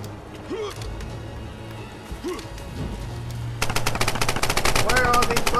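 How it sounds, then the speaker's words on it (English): Automatic weapon fire in a Tomb Raider multiplayer free-for-all match on the Shrine map: after a few quieter seconds with scattered game sounds, rapid machine-gun bursts erupt and rattle on loudly and close until the end. "Where are all these bullets coming from?"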